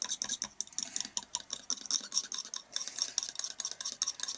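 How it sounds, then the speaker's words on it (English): Metallic pink paint being stirred together with thinning agent for dot art, a fast run of light scraping and clicking strokes against the container that keeps going without pause and sits close. "just literally mix them all up"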